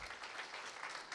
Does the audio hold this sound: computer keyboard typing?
no